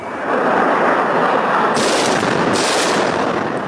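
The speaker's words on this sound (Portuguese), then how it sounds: "o Ministério da Defesa russo divulgou um vídeo de helicópteros disparando contra alvos ucranianos" Attack helicopters fire on targets in news footage of the war in Ukraine, a dense, continuous roar of rapid gunfire with a harsher burst in the middle, loud and unbroken throughout.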